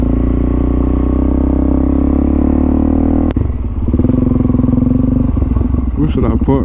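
A Suzuki DRZ400SM supermoto idles loud and close with a steady low engine drone, then a sharp clunk and choppier, uneven engine pulses as it pulls in to park, with brief blips near the end.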